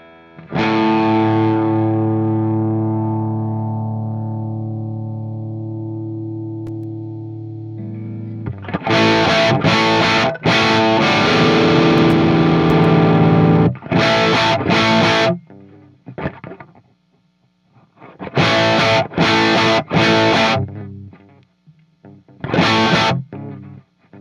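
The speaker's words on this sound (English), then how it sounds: "now we're going to do the same thing, but now tone in, which I think makes it louder" A sustained, gritty instrument passage is recorded through a Warm 1073-style preamp with the tone switch engaged, at first a long ringing chord, then loud distorted bursts in stop-start phrases with brief gaps, and no talking.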